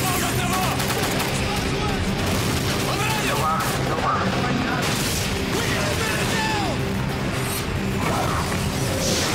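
Call of Duty Modern Warfare 3 plays dense, loud gunfire, with rapid bursts and crashes packed over a continuous battle din. Shouted voices are mixed in with the shooting.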